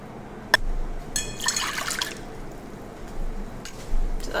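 Water trickles and splashes briefly into a mixing bowl of cake batter with oil, a short close pour after a small knock, followed by quiet dribbling.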